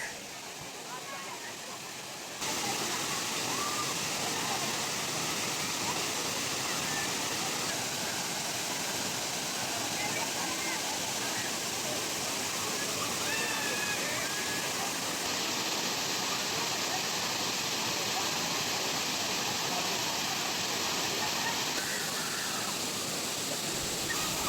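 Areekkal Waterfalls pouring hard over rock into a concrete-beamed first tier: a steady, dense roar of falling water, loud and close, continuing unbroken throughout with no voices.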